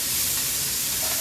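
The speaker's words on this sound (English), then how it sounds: "That's when you know your greens are going to be good, when you saute them like this and you can hear them." Greens sauteing in a hot pan give off a steady, close sizzle and hiss with no pauses, loud and unbroken throughout, with no talking over it.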